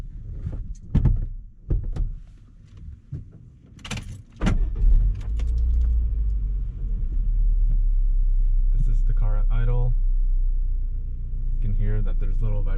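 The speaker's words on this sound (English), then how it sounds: "There's little vibration noise from the motor mounts, but it's not too bad" A modified 2010 Honda Fit (Jazz GE8) rumbles with a low, steady drone from engine and motor mount vibration as it drives, after a few clunks and door or key sounds, with someone talking over it.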